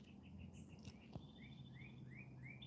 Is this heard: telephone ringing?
no